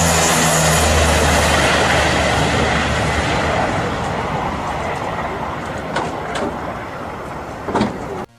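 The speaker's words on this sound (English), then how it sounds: "a plane runs through a muddy runway but proceeds to take off" A propeller plane roars loud and close as it rolls along a muddy runway and takes off, its engine noise steady and broad, then fading slightly with a few brief knocks near the end.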